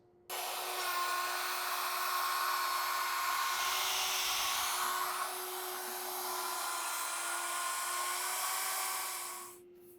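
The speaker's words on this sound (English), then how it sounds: "we're going to drop our router bit down just a little bit more and make another pass" A router with its bit dropped lower mills a wooden board, a loud steady high whine starting abruptly, holding for about nine seconds with slight pitch shifts, then winding down at the end.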